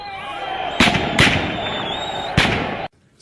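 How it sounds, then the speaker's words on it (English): Loud sharp gunshot-like bangs in city streets during running battles, three distinct cracks echoing over a steady background hum and crowd noise. "the streets echoed to the sound of gunfire."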